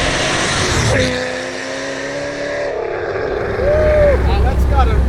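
A supercharged C5 Corvette making over 800 wheel horsepower accelerates hard, its engine note rising and swelling loudly up close with a climbing whine, while people talk over the run.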